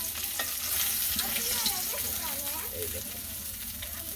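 Ilish fish frying in hot oil in a home kitchen, a steady bright sizzle and crackle running throughout with occasional stirring, close and continuous, with faint voices in the background.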